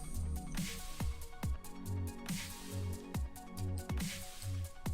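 Water blocks being placed in Minecraft while building a garden for a suburban house, a series of soft wet splashing squelches repeating at a steady rhythm, close and fairly loud over a continuous watery background.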